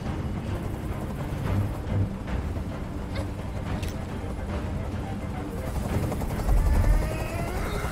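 A helicopter in the video game Detroit: Become Human gives off a steady, loud rotor rumble from start to finish, with a few brief thumps and a slight swell near the end.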